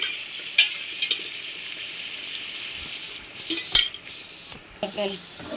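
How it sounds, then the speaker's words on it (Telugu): Boti fry being stirred in oil in a pan, a soft sizzle under sporadic scraping and clinks of a spoon against metal, close by, with no talk. "ఆయిల్ పోసాక బాగా కలుపుకోవాలండి అడుగంటిద్ది జాగ్రత్తగా కలుపుకుంటూ ఉండాలండి"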